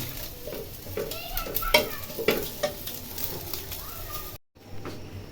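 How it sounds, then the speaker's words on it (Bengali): Garlic, chili and dried fish sizzle together in a pan while being stirred, a constant frying crackle with scraping strokes of a spatula and soft pigeon coos in the background. "রসুন টালতাছি, মরিচ টালতাছি, শুটকি টালতাছি, সবগুলো একসাথে"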